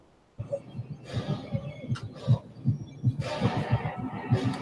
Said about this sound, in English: So we added the heartbeat sound effects and the flashy colors to make it look like Bendy taking over.